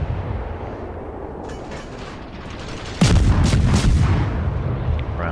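Warship guns in World of Warships fire a heavy salvo, a loud booming blast that cuts in over a steady engine-like rumble and rolls on with reverberating crackle.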